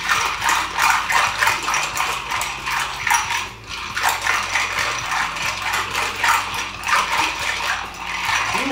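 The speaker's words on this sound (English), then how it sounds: "And we'll give it a good stir." A Tierra del Fuego cocktail is stirred in a mixing glass, giving a steady, busy run of close metallic clinks and rattles that carries on for the whole stretch without any talking.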